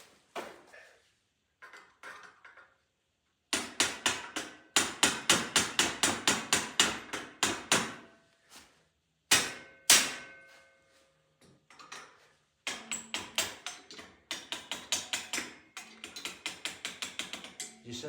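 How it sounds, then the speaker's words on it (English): Screwdriver tapping a wheel axle out of a GoPlus lawn mower lift: bursts of rapid, sharp metallic taps in quick runs, separated by short pauses, close and fairly loud, with no talking. "And then tap it out with the screwdriver"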